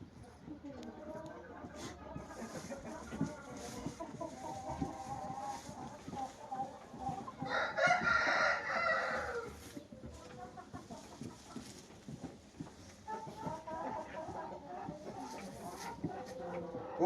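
Rooster crowing and chickens clucking, with steady nearby clucking throughout and one loud, drawn-out crow of about two seconds in the middle.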